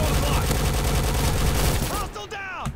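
Gunfire in the Roblox FPS game Recoil, dense rapid bursts of automatic shots rattling continuously and loudly for about two seconds, then cutting off into quieter game sounds and sweeping tones.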